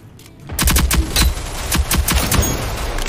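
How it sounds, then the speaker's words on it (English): Rapid close-range shotgun blasts in Rogue Company, a burst of loud sharp reports packed tightly together after a brief quiet start, with gunfire continuing through the rest. "the shotgun is so good up close though"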